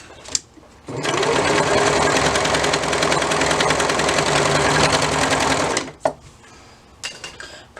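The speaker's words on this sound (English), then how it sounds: "I have one piece of swim that I'm going to sew right sides together here" A sewing machine stitches two pieces of swim fabric right sides together for a kids' swim bottoms waistband, running in one loud continuous burst of about five seconds with quiet handling before and after.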